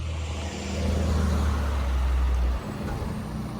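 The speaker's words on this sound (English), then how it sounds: "get ready for the loud truck" A loud truck rolls past on a small-town street in New Hope, Pennsylvania, its heavy low engine rumble swelling and holding close for a couple of seconds before cutting off into lighter street noise.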